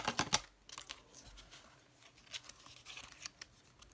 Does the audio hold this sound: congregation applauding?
no